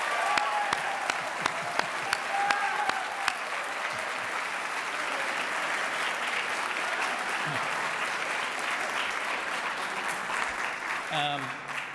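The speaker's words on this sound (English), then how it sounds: "Could we get a big round of applause for all the educators from the Lowell Area School" An audience applauds educators from the Lowell Area School District at a Michigan Supreme Court community event, a sustained wash of clapping held at an even level for about ten seconds before it tapers off at the end.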